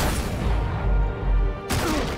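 Gunfire in the Batman Telltale video game: dense, loud bursts of shots with booming low rumble, a brief drop, then a fresh sharp burst of fire.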